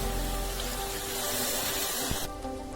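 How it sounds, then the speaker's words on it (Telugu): Tamarind extract pours steadily into a crab curry in a home kitchen, giving a continuous close liquid splash and trickle that cuts off abruptly near the end. "ఇప్పుడు చింతపండు పులుసు యాడ్ చేయాలండి."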